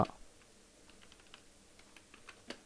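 A computer keyboard is typed on lightly, with irregular soft clicks of individual keys close by and a slightly louder tap near the end, in an otherwise quiet room.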